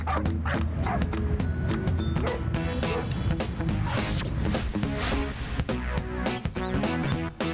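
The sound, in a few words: grumpy Shih Tzu dog barking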